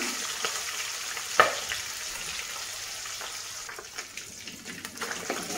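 A continuous sizzle of fish frying hard in hot oil, with a sharp pop early on and soft crackling and stirring noises over the steady hiss.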